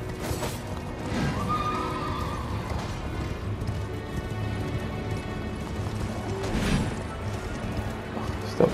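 A horse neighs loudly in Elden Ring, a long whinny rising over constant combat noise, hoofbeats and clashing, with no talking.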